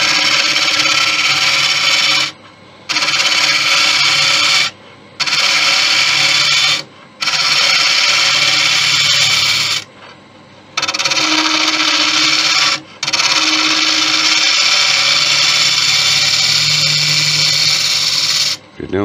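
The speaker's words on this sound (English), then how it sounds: "Doing this with a ball gouge," A Thai redwood vase spins on a wood lathe while a ball gouge cuts it, giving a loud, close rasping hiss in several long passes broken by short silent gaps.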